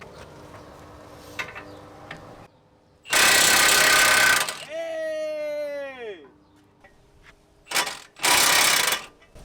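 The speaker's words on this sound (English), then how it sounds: "We just picked up the M18 impact. Hopefully it is able to take out the bolts." A Milwaukee M18 impact wrench taking bolts off an Acura RSX fires two loud, sustained hammering bursts close by, with a rising-and-falling whine and a voice between them.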